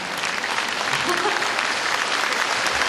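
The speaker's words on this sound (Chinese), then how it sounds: "你看他们要给你掌声哦" An audience applauds at a concert in Taipei: dense, continuous clapping from a large crowd, loud and steady throughout.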